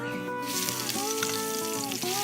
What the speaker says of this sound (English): as you would expect in frying, they're just gonna start bubbling right away